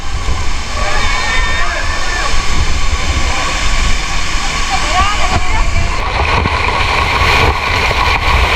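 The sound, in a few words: waterfall, Cascada de Los Micos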